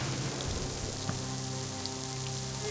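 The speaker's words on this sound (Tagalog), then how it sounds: "Mamaya, titila din yung ulan, ha?" Rain falling in a forest, a steady, even hiss of drops on leaves and ground that continues without a break.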